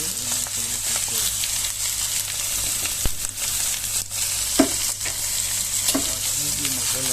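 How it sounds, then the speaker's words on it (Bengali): Mutton sizzles and fries steadily in a pot for Dhaka-style tehri, with a loud continuous crackle and occasional clinks and scrapes of stirring. "আমি মাংসগুলো ঢেলে দিচ্ছি। আমি এক্সট্রা কোনো পানি দেবো না।"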